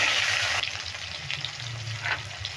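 Chopped tomatoes fry with masala in a pan over a medium flame, giving a steady, close sizzle with soft stirring scrapes and no talking.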